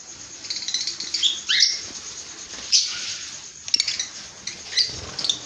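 Peach-faced lovebirds in a bird shop give sharp, high chirps in short bursts, several calls overlapping over a quiet background hum, with occasional faint clinks.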